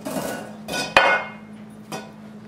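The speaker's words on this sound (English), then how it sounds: "You want to just run around the edges with a knife just to make sure that it didn't stick anywhere" A knife runs around the edges of a metal loaf pan holding low-fat banana bread, giving a few brief scraping strokes and one sharp metallic tap, close and fairly quiet with no talking.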